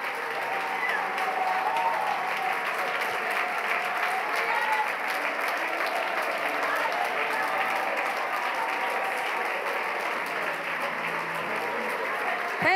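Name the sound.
congregation applauding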